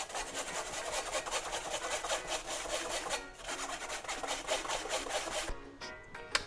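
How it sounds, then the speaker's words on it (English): A whisk beats flour into a lamb shank sauce in quick, rhythmic scraping strokes. The steady, brisk rasping runs up close throughout, with a brief pause partway. "we're simply going to whisk it to thicken up the sauce"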